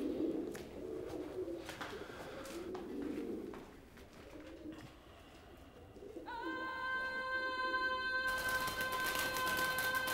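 Pigeons coo softly in a row of low, rounded calls, fairly close. Partway through, a ringing, sustained tone rises and holds beneath them.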